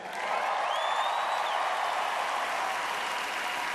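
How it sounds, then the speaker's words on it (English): An audience at the Miss Universe 2016 show applauds in a dense, steady wash of clapping and crowd noise that holds loud throughout. "Fans, how about you give yourself a big hand?"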